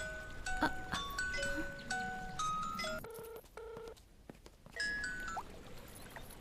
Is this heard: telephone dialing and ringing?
yes